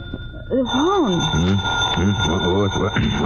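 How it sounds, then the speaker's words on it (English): A telephone rings with a steady, high electric tone as a radio-drama sound effect, sounding continuously beneath overlapping voices. "The phone's ringing."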